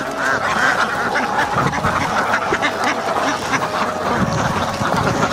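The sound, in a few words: ducks quacking as they come to the farm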